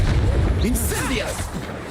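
A burst of the Incendio fire spell in the Hogwarts Legacy video game, a loud whooshing flare over a rumbling battle bed, with a person speaking over it.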